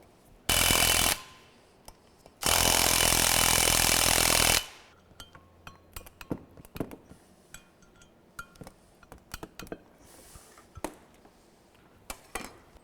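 Brake discs being fitted onto freshly painted hubs for a Talbot Sunbeam disc brake upgrade in a workshop: two long harsh bursts of grinding power-tool noise, then a string of sharp metallic clinks and taps, close by, without talk.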